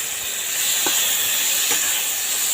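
Chopped onions and tomatoes with a pinch of salt sautéing in butter in a pan give off a steady, close hiss, broken by two brief scraping touches.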